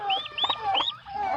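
Newly hatched poultry chicks peep on a provincial farm where turkeys and geese are kept, several close, high, rising and falling cheeps in quick succession.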